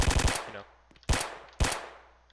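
Gunfire in a first-person shooter video game: a rapid burst of shots at the start, then two single loud shots each ringing out with a decaying tail, close and alone with no talk.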